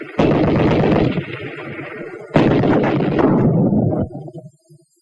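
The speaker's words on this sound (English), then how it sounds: "Watch what it can do to an enemy machine gun packed with plenty of sandbagging." An anti-tank rifle grenade blasts a sandbagged enemy machine gun nest in a wartime training demonstration, two loud booming explosions about two seconds apart, each with a long rumbling roll-off before fading out.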